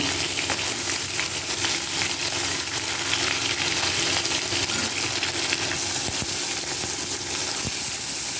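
Fish pieces fry in a pan of hot oil in a home kitchen, giving a loud, steady, crackling sizzle that runs the whole time with scattered sharp pops and no voices.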